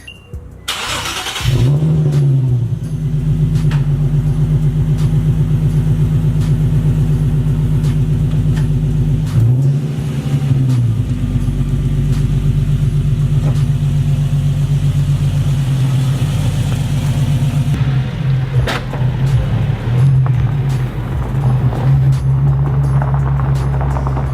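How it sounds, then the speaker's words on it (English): A Nissan 370Z fitted with new Fortune Auto coilovers rumbles loudly and steadily nearby, its engine note rising and falling in a few swells as it drives, with no talking. "I'll finally be able to drive my Z"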